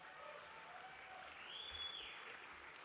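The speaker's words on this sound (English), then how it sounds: "Please give Chris a round of applause" Audience applause at the 2013 Australian Drinks Awards for Chris Percy, a steady, fairly faint wash of clapping across the whole stretch, swelling slightly midway, with a thin high tone briefly over it.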